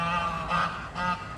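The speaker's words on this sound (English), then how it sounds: "The geese are very noisy on the canal today." Geese on a canal honk in two loud bursts over a steady background hum, the calls rising and falling with a brief lull between them.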